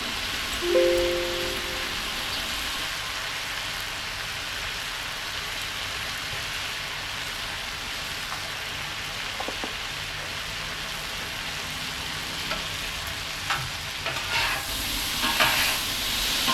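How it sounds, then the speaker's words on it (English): Ginger chicken and vegetables sizzle in a pan while being tossed with sauce, giving a steady, close frying hiss with occasional scraping and clinks. "after a minute or two of tossing it around, we're going to add just a little bit more sauce to it"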